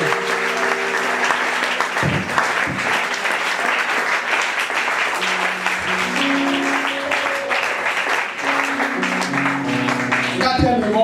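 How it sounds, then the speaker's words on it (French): Church congregation applauding loudly and steadily to acclaim Jesus, sustained dense clapping with voices and cheers mixed in, ending with a brief burst of louder sound. "Acclame encore Jésus."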